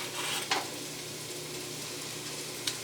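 Smashed garlic cloves sizzle as they drop into a hot pot for tomato soup, a steady close frying hiss with two brief sharp crackles, no talking.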